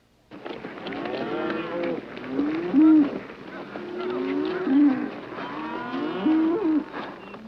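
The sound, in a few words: cattle herd being driven across grazing land, from film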